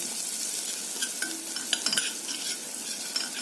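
Fresh garlic frying lightly in a pan for Egyptian koshari, a steady close sizzle under brief stirring scrapes from a spoon, with no voices.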